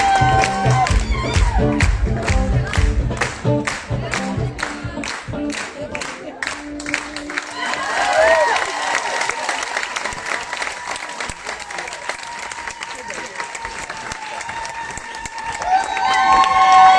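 Cabaret audience clapping in a rhythmic, unison beat to music, then breaking into louder free applause and cheers from the crowd that swell again toward the end.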